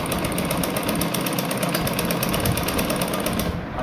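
A sewing machine runs steadily as it stitches a shirt sleeve, a loud, close, continuous rapid mechanical whir that stops abruptly at the end, with no voices.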